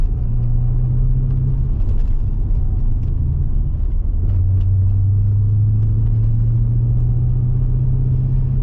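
An MG ZT 260 V8 burbles steadily while driving, a deep low rumble heard from inside the car with a slight change in pitch midway, loud and continuous with no talk.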